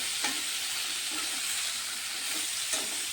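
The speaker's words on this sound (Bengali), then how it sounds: "একটু নুন আর হলুদ দিয়ে দিচ্ছি। আলু কপিগুলোকে একটু ভালো করে কষিয়ে নেব।" Potato and cauliflower pieces stir-frying in a pan with salt and turmeric, giving a steady, dense sizzle close by with a few soft scraping stirs, no voices.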